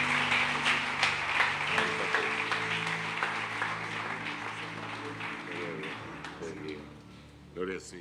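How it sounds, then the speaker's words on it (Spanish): Church congregation clapping during an evening service, sustained applause that gradually fades while voices and a little music continue underneath. "Démosle un aplauso al Señor."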